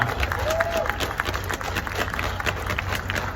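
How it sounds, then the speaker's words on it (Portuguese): A council session audience gives loud applause in salute to a new church temple, close and dense clapping with some crowd noise mixed in, sustained throughout. "saudemos com uma grande salva de palmas a esse templo Igreja Vida Nova"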